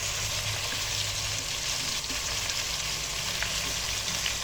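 Mutton leg pieces fry in oil with spices, giving a steady, close, continuous sizzle with faint crackles throughout and no talk.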